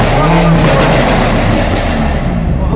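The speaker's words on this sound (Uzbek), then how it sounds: "Ichlar bo'yicha O'zbekistondagi eng balon vyxlopli mashina aynan shu deyaptilar." A BMW M5 F90 revs hard through its loud exhaust, a dense, roaring engine note that stays loud and close throughout, with a voice faintly audible underneath.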